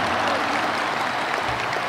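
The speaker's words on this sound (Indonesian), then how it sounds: "Kita berikan tepuk tangan untuk Ketua Umum Partai Demokrat, Mas Agus Harimurti Yudhoyono." Audience applause at a NasDem party rally, a brief burst of steady crowd clapping, fairly loud and even throughout.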